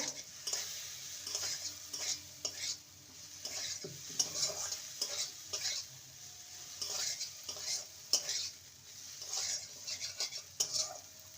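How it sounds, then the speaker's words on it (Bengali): Fried soya chunks being stirred in a cooking pan for vegetarian soya pulao: a spoon scrapes and clatters against the pan in a steady, repeated rhythm over a light sizzle, close up, with no talking. "আর দিয়ে দেবো সোয়াবিন ভেজে রাখা সোয়াবিন ভালো করে নেড়ে নেবো"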